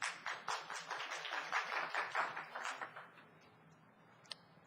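A city council meeting audience gives a modest round of applause that claps steadily for about three seconds, then thins out and fades, ending with one isolated tap.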